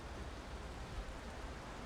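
Rainstorm in the video game Valheim, a quiet, continuous hiss of falling rain with a low rumbling undertone.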